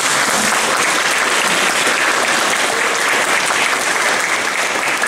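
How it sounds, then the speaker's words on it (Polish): Loud, dense applause from a theatre audience after a Stations of the Cross performance, many hands clapping in a steady, unbroken roar with no speech over it. "Zapraszamy i duże brawa,"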